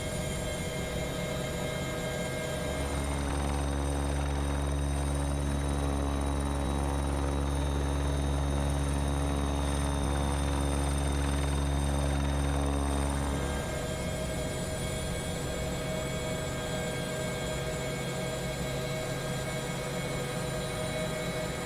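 A helicopter flies in to a helipad near a home to pick someone up, its steady, loud rotor and engine drone swelling into a heavy low throb that holds for about ten seconds before easing back to a quieter hum.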